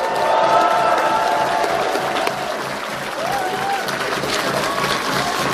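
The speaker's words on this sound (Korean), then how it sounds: "우리 서로 격려의 박수 한번 부탁드립니다" A crowd at an outdoor political campaign rally in Chuncheon applauds, a dense continuous wash of clapping with some cheering that dips briefly midway and then swells again, with a voice faintly over it.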